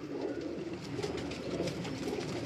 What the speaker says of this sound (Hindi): आप देख रहे हैं एक कलपोटा इनका कबूतर है, ओरिजिनल रामपुरी मादी।